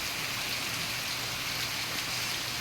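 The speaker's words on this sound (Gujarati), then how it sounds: "તો ખૂબ જ સારી એવો વરસાદ વરસી રહ્યો છે" Steady monsoon rain, the first of the season, falling in a continuous even hiss at moderate level, with no voices and no breaks throughout.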